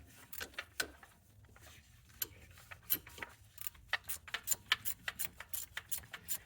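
A ratchet clicks while tightening 15 mm starter bolts on a Chrysler 300, giving quiet, close bursts of irregular ticking with short pauses between strokes.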